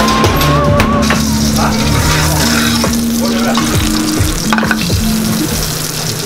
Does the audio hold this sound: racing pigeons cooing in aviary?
no